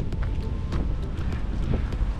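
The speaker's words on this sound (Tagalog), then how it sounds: "Kasi malakas ang hangin." Steady, rushing wind in Fredericton, New Brunswick, buffets the microphone with a low, continuous roar throughout, with no other clear sounds.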